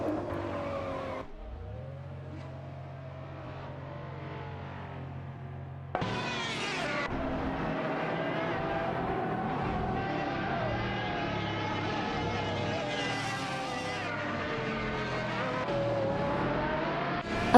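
Race cars in an AI racing video game: continuous whining engine tones that rise and shift in pitch as cars accelerate and pass, forming a steady, dense mix of motors with no break.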